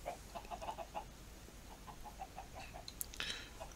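Minecraft chickens in the Resonant Rise 3 modpack cluck in short, soft, repeated bursts against a quiet background, with a few brighter game sounds near the end.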